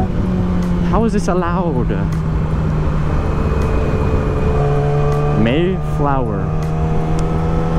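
A vehicle driving along a street, its engine a steady loud drone throughout with car horns or tonal bursts rising near the start and again later, while people talk excitedly over it.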